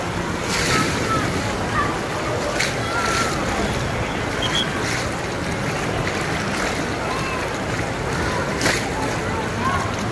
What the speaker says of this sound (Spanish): tiene así como en plan olas de playa. Simula muy bien a la playa